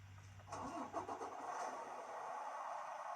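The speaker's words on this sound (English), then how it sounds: "I'm going to start the engine." A truck engine cranks and catches about half a second in, then settles into a steady, close running idle with no talking over it.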